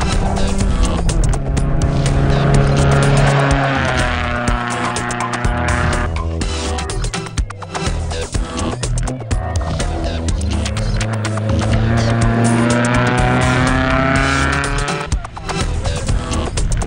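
Off-road race cars in the Stella 250 desert race, loud engines roaring close by with revs sweeping up and down through gear changes, sustained for the whole stretch with brief dips between passes.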